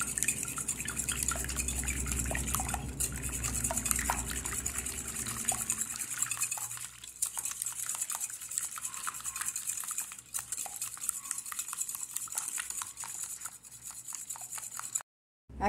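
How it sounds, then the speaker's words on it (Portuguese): Cornmeal cake batter with eggs being stirred, a continuous scraping and sloshing of a utensil against a bowl, close and steady, with no talking. "Vou misturar."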